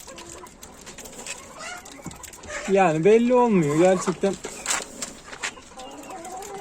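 Brahma chickens in a backyard coop give one loud, drawn-out wavering call over faint background clucks, while a person talks nearby.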